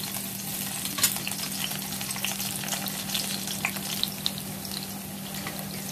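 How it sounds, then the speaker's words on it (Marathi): Crushed garlic and green chillies sizzle steadily in hot oil, a dense close frying hiss with a faint steady hum beneath and a few sharper crackles along the way; no one speaks. "तेल छान गरम झालेलं आहे, लसूण मिरच्या घालून घेऊया"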